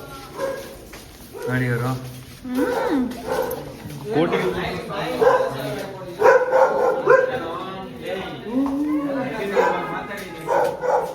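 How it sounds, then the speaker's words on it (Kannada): Dogs at a house in Munnar bark and yip repeatedly in short bursts, close by and loud, mixed with people talking. "ಎಲ್ಲಾರ ಮನೇಲೂ ನಾಯಿಗಳೈತೆ ಗೈಸ್ ನೋಡಿ."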